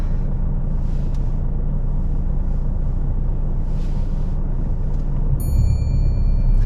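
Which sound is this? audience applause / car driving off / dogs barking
car driving off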